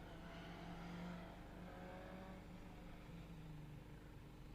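A Ford Focus rally car drives along a stage at the Mull Rally, its engine a steady, distant drone that rises briefly and then holds, with no talking.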